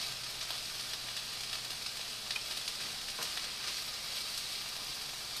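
Vegetables for japchae, including green onions, garlic, yellow onions and red peppers, sauté in a pan with a continuous close sizzle and a few faint stirring scrapes, no voices.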